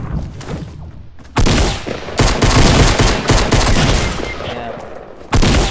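Fortnite gunfire in rapid bursts, loud and close: two sharp volleys, then a sustained rattling stream of shots lasting a few seconds, with a final burst at the end and no speech over it.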